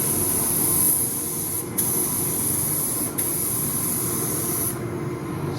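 Lacquer sprayed from a spray gun over purple flip paint on a Notorious XL build: a steady close hiss broken by two brief pauses and stopping near the end.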